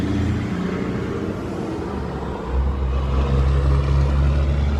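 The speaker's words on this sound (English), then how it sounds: "the dump truck going by is going to be loud" A dump truck rumbles past close by, a loud low engine drone that swells and deepens midway through as it draws nearer, with no voices over it.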